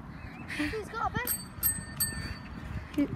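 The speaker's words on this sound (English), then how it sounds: "He's got a bell." A bicycle bell rings a few times in a park, bright short dings at moderate distance over faint outdoor background and brief vocal sounds.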